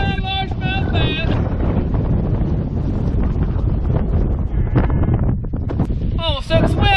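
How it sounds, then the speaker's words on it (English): Strong wind buffets the microphone outdoors while bass fishing on a breezy day, a constant loud roar with brief tonal squeaks near the start and end. "It is a little breezy today."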